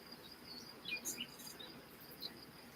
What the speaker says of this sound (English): Oh, we got some birds.